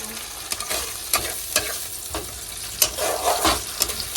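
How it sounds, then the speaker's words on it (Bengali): Spice paste poured into a hot pan for a Bengali dhoka recipe, a close steady sizzle broken by irregular scraping and stirring knocks throughout. "যে পেস্টটা করে রেখেছিলাম সেই পেস্টটা এই যে ঢেলে দিচ্ছি"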